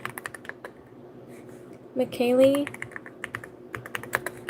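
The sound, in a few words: typing names on a computer keyboard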